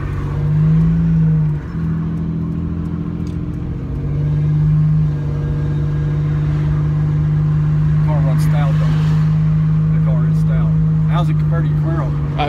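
A Buick Grand National's turbocharged engine drones steadily from inside the car as it accelerates, a constant low hum with a slight rise, while people chat and laugh over it.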